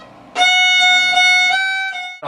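A short fiddle phrase from Mississippi Sawyer, a few sustained bowed notes played close and clear, no voices, cut off at the end by a brief noise.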